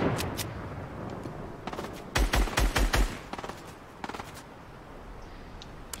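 Gunfire in Fortnite, scattered single shots and then a dense rapid burst of automatic fire, loud and close, trailing off into a few more short volleys.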